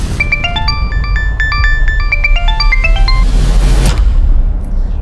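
A phone ringtone plays a bright, repeating electronic melody of stepped tones for about four seconds over a steady low background rumble, ending with a brief swelling noise.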